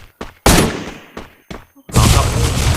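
Loud bursts of gunfire from the video game Free Fire, several short separated shots followed by a sustained rapid volley near the end.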